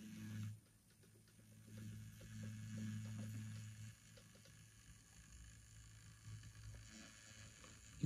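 A Hornby Duchess class model locomotive with a DCC conversion runs on track with a slowing fault, giving a faint low motor hum and light mechanical whirring that fades and drops in level.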